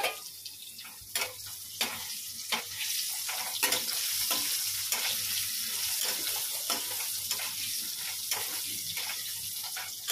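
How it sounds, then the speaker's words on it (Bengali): Potatoes salted and coloured with turmeric fry in a pan with a continuous sizzling hiss, broken by repeated sharp clicks and scrapes from stirring, close and fairly loud with no talking. "আলুটাকে লাল লাল করে ভাজবো"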